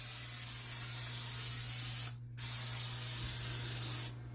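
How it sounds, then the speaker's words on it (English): Oil is sprayed onto Ritz-coated crispy baked chicken pieces in two long, steady hissing bursts with a brief gap between them, close and soft. "we're gonna spray these one more time because I want to get that extra little flavor and extra little crunch"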